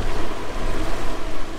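Cold wind blows on a wet mountain road near Mussoorie, a steady loud rushing roar with buffeting against the microphone, brief and continuous with no talking.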